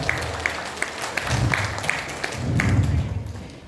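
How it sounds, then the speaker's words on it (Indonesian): A seminar audience at a parenting event applauds, scattered claps building under a repeating beeping tone and a low murmur of voices or music beneath. "Beri tepuk tangan untuk beliau."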